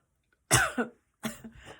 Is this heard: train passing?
no